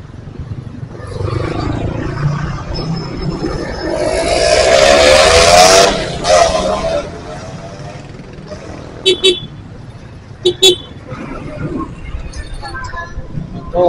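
Road traffic passing by, with engines swelling into a loud roar as a vehicle goes past midway, followed by a few sharp horn toots and lighter engine noise, while people talk nearby.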